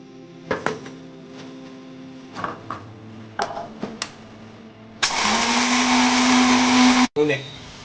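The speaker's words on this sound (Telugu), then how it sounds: "ఆవాలు, జీలకర్ర, మెంతులు, ధనియాలు ఎర్రగా వేయించుకున్న తర్వాత మిక్సీ పట్టుకోవాలి." A mixer grinder whirs loudly for about two seconds, grinding roasted mustard, cumin, fenugreek and coriander seeds, after a few scattered clinks and knocks, then cuts off briefly before a short restart.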